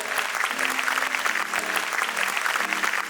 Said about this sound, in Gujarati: એમને આપણે જોરદાર તાળીઓથી વધાવી લઈએ છીએ